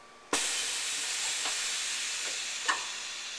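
Air-over-oil boosters on a DeHoff 518C twin-spindle gun drill clamp the fixtures with a sudden loud hiss of air that holds steady, broken by a few faint clicks and a sharper release near the end.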